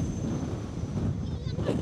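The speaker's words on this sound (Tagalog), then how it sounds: "Ayan, alalakas ng hangin guys." Wind rushes steadily over the microphone at Songaksan Mountain on Jeju, a moderate continuous rumble with a voice briefly audible near the end.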